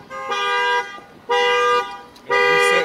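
Car alarm of a 2017 Infiniti Q50 honking in three loud, evenly spaced tonal blasts, each lasting about half a second with short gaps between.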